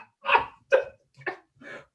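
Dogs bark in a run of five sharp, fairly close barks spaced roughly half a second apart, each separated by silence, with no talking.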